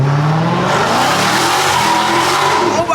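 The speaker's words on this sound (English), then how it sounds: "I ain't never heard my car that loud before" Car at a large Atlanta car meet, its engine roaring loudly with tire squeal and rising revs, one loud continuous burst close to the mic with no talking.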